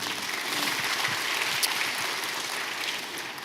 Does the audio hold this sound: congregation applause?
yes